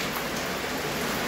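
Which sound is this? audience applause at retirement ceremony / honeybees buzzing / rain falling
rain falling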